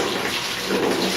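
Fresh water poured into a container during a home malt liquor brew, a short, continuous splashing gush with no talking.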